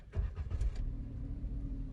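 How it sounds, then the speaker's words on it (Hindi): A 2020 Maruti Suzuki WagonR LXi CNG base model, BS6, starts up: a brief cranking stutter catches into a steady, close, low idle hum that continues to the end. "आइए गाड़ी को स्टार्ट करके देखते हैं।"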